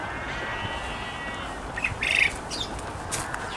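Small birds at a farm squawk and chirp in a few short bursts over steady outdoor background noise, moderately near, with no talking.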